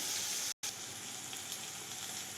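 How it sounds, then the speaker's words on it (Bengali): Onion, panch phoron and vegetables frying in a pan, a steady soft sizzle throughout with one brief dropout near the start. "আর এদিকে পেঁয়াজ ওই সবজিটার হচ্ছে ভাজা"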